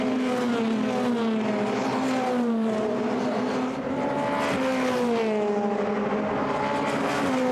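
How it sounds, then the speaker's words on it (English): Formula Renault 2.0 race cars at Monza, heading toward the Parabolica, make a loud continuous engine scream whose pitch slides down and back up as they pass, with no talk over it. "the cars once more work their way down"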